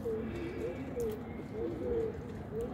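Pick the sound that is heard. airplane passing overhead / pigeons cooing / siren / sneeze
pigeons cooing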